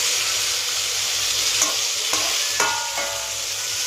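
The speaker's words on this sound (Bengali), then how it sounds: "বেগুন একটু নাড়াচাড়া করে দিলাম" Eggplant frying in a pan, a loud, constant close sizzle broken by a few scraping strokes of a spatula stirring the pieces, with no talking.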